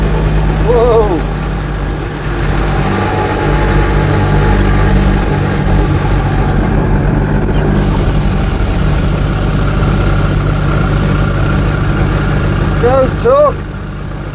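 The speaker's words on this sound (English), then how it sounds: "See, the engine is actually keeping the revs up like it should. It just sounds horrible." A rough-sounding Invacar engine with suspected pulley misalignment drones steadily as the car climbs a windy hill, its low rumble continuous under someone's talking and a brief shout.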